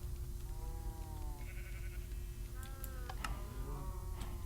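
Sheep bleating in a farming video game, several short wavering bleats from more than one animal over a steady low background hum.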